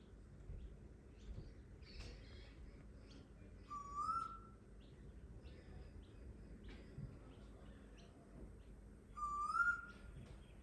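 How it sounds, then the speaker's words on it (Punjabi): Two rising whistled calls of an Asian koel ring out a few seconds apart, clear against a quiet outdoor background with faint distant chirps, in a suburb of Picton, Australia. "ਆਵਾਜ਼ ਸੁਣੋ ਜੀ ਇਹਦੀ"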